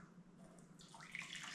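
Boiled water pours steadily into a half-litre mug, a faint trickle that grows into a brighter, rising gurgle as the mug fills.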